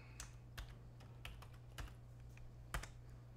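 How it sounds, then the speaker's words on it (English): Quiet keystrokes on a computer keyboard as a name is typed into a search, a handful of crisp, unevenly spaced clicks over a faint steady hum, with no talking. "let's type in her last name too"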